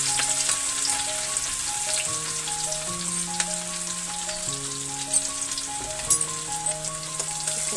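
Garlic and chili sizzle steadily in a pan of cumin-toasted oil while cooking a spiced cauliflower and potato dish, a continuous crackling hiss under steady background music with no talking.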